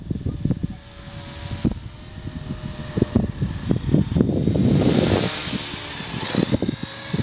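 An EXI 450 radio-controlled helicopter flying outdoors, its rotor buzzing and whining in pulsing surges as power rises and falls, fairly close.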